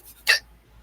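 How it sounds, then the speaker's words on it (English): A single sharp hiccup, loud and close, in an otherwise quiet room with no one talking. "excuse me, I have hiccups."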